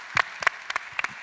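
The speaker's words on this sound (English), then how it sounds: "Let's give them a round of applause." A few people at a youth ambition session at a government best-practices forum clap in sparse, distinct pairs of hand claps with gaps between them.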